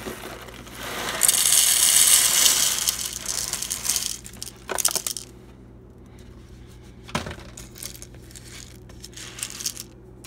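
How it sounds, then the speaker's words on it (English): Whole coffee beans pour into the hopper of a Breville BES870XL espresso machine, a loud dense rattling cascade for a couple of seconds, then sparse scattered clicks and small shuffles as the last beans settle. "let's put the beans in"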